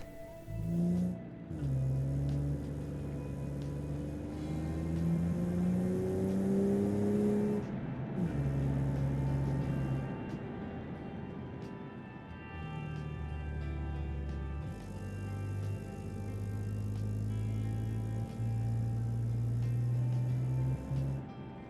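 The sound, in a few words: car accelerating uphill in the Automation video game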